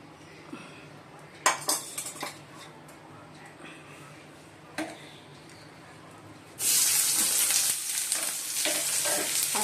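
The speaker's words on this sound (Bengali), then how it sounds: "ঠিক আছে, কড়াইতে তেল দিই।" Oil heating in a wok in a home kitchen before fish is fried, starting with scattered clinks of utensils and low background noise, then a sudden loud, steady sizzle that hisses on for several seconds.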